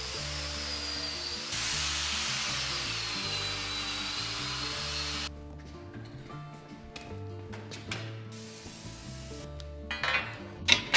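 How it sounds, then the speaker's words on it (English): A wire wheel grinds and scrubs over the treadle of a Beaudry power hammer in a grinding room, a steady rough whirring hum that drops off about halfway through, then softer scraping and a few sharp knocks. "we're gonna head into the grinding room and wire wheel off the treadle"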